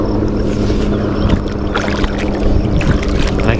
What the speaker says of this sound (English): there's one of the boats right there.